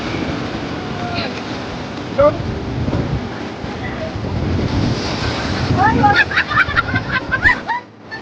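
Surf washing ashore on the beach at Puri, a steady broadband roar with wind buffeting the microphone, as voices chatter and call out nearby.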